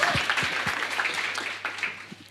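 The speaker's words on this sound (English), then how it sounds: "A round of applause to them," Audience applause after a presenter calls for it at the futurEU 2023 finals: a dense, steady wash of clapping with a few louder individual claps standing out, sustained at moderate level for a couple of seconds.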